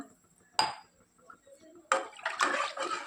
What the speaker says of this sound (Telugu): ఇప్పుడు నేను ఎసురు పోసుకుంటున్నానండి నాలుగు గ్లాసుల వాటర్ వేసుకుంటున్నాను